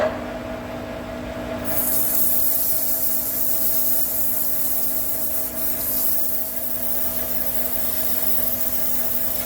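Steady, continuous abrasive rubbing of sandpaper against a thermally sprayed metal surface on a Caterpillar engine crank pulley, with a constant machine hum running underneath.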